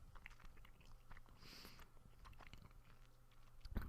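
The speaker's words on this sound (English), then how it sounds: "I really don't know how loud these chewing sounds are" Close, quiet chewing of gum: soft, wet clicks and smacks in an irregular rhythm, with no talking.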